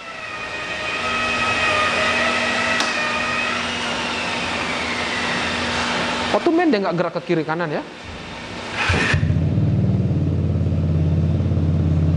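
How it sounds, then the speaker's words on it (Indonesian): A modified Vespa Sprint Carbon Edition scooter with a bored-up engine, piggyback unit and aftermarket exhaust drones steadily nearby. A person speaks briefly, then a deeper, louder exhaust rumble takes over. "Ini knalpotnya bunyinya lebih bulat, tidak sepecah yang hijau ini."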